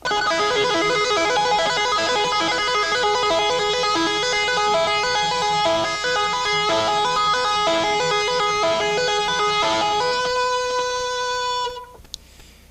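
Bright, rapid tapped guitar notes ripple in a steady, looping pattern, loud and close, ending on a sustained note that rings out and fades.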